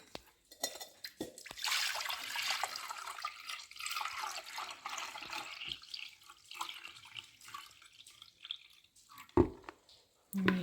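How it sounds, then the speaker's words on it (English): Fine river gravel suspended in water is poured into a container, a wet sloshing, gurgling pour that builds early then thins to trickles and a few drips, close and fairly quiet. "So river gravel, the fine stuff in water. Just going to pour it"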